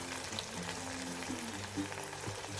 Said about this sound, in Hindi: पोटैटो को भूनते हुए 3 मिनट हो चुके हैं।